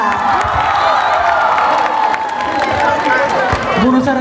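A loud crowd at a Romanian light music festival cheers and claps continuously, with shouts and whoops rising over a dense roar of applause.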